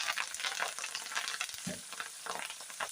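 A handful of curry leaves fried with chillies and garlic in a tempering for red chilli pickle, a bright crackling sizzle with spatula stirring and scraping, close and continuous, without talk.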